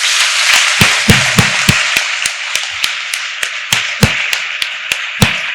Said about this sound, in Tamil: கைத்தட்டு கொடுக்கலாம் தானே.